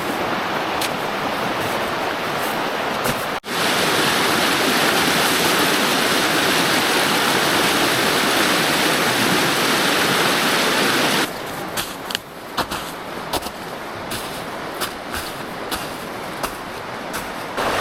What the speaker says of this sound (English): but we can start to hear the waterfall.